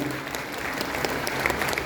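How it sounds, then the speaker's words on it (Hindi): Loud, sustained applause from an audience opening a spiritual talk session on Meher Baba at the Lucknow centre, with dense continuous clapping and no speech. "तो जोरदार तालियों के साथ हम इस सेशन का आगाज करते हैं"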